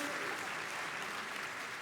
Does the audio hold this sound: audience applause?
yes